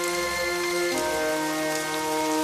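Cartoon rain falls in a steady, dense patter, loud and continuous, with a sustained musical tone layered over it and no speech.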